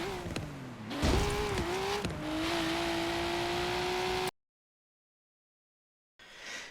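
A classic Nissan Silvia's engine revs and accelerates close by, its pitch climbing and dipping across several gear changes, then cuts off into silence before a short burst of engine noise returns.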